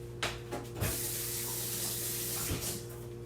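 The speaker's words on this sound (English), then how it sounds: "Rinse off my hands real quick." Hands are rinsed under a running kitchen tap, a steady close hiss of water broken by a few splashy bumps and knocks.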